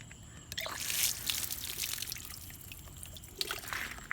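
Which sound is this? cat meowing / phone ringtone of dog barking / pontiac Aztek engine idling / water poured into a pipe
water poured into a pipe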